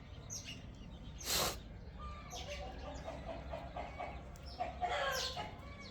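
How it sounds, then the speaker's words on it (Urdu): Chickens and roosters clucking in a farmyard, a continuous mix of overlapping clucks and calls near and far, with one louder burst of squawking and several sharper calls, over a constant low background rumble. "تو بھائی پھر سارے ککڑ پیچھے پیچھے"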